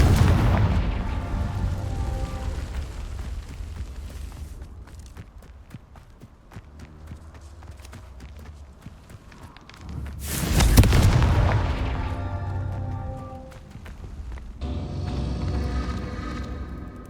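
Confringo fire spells blast in Hogwarts Legacy as deep booming explosions. A loud burst comes at the start, a bigger one near the middle and another late on, with rumbling tails and crackles between them.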